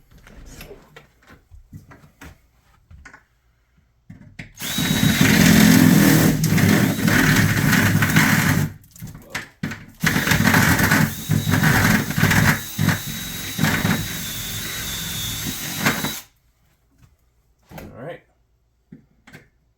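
A Hercules step drill bit bores through a front door to enlarge the peephole. It makes a loud, harsh grinding whir in two long bursts of about four and six seconds, with brief voices in the quiet stretches.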